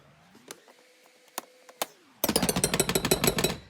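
A pastry cutter works cold butter into pie dough for a blueberry pie. A few scattered taps against the bowl give way to a quick, steady run of sharp, close chopping knocks, with no talking.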